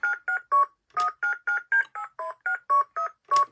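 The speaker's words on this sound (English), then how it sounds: "you can definitely trigger phone noises" Electronic keypad beeps from a 2006 VTech Grow and Go ride-on toy phone, about a dozen short two-tone dialing bursts in a quick, steady rhythm, clear and close with no talking.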